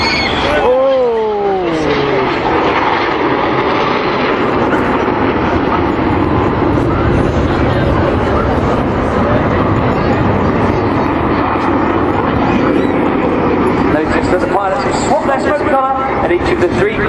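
Red Arrows jets crossing in the carousel manoeuvre at the Sunderland International Airshow 2014, with a loud continuous jet roar and sweeping engine tones as the aircraft pass near the start and end, under a talking voice.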